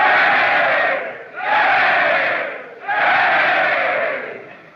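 Large crowd in a 1930 film cheering and roaring in three long swelling waves, loud and close, each surge rising and fading before the next.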